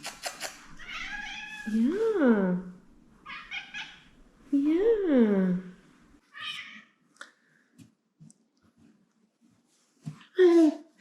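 A cat gives several drawn-out meows, rising and falling, at close range. A person speaks briefly between the calls.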